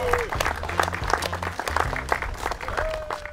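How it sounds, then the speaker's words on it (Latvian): An audience claps for the first-place winner at a street fishing competition, steady applause lasting a few seconds with a voice briefly over it. "Aplaus, 1. vieta."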